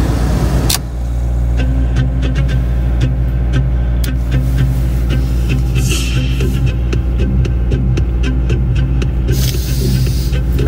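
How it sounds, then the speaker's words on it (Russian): A freshly started Honda Prelude engine runs steadily with a deep, throbbing idle hum and some hiss, loud and close, continuing without interruption and without talk. "Тут, это движок только? Это движок?"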